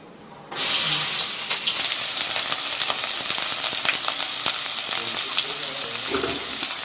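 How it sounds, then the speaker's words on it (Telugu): Cumin and mustard seeds drop into hot oil, setting off a loud, steady sizzle that starts abruptly and crackles on without a break. "జీలకర్ర ఆవాలు 2 మిక్స్ చేసి ఇప్పుడు నూనెలో అయితే వేస్తున్నాము."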